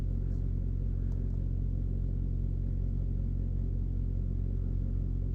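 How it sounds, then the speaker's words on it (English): A truck trailer's reefer refrigeration unit runs continuously, a steady low droning rumble with an even hum and no breaks, heard from close by inside the vibrating truck cab. "I'm surprised with the reefer on because it vibrates."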